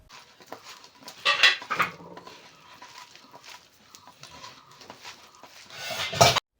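Gram flour being mixed by hand into a lentil and onion fritter batter in a bowl, with soft wet squelching, scraping and a few clinks of utensil against the bowl, close and fairly quiet.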